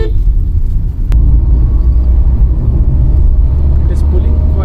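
Tata Altroz iTurbo hatchback, a 2021 model, accelerating hard in third gear on the road, with a steady low engine and road rumble heard from inside the cabin.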